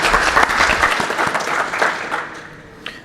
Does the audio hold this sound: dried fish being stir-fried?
no